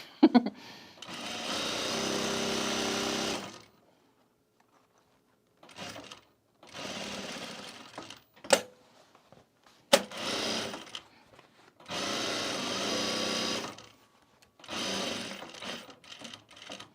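A home sewing machine stitches around the perimeter of a travel bag with a shortened stitch length, running in several sustained bursts separated by pauses and brief clicks, close and loud with no talking.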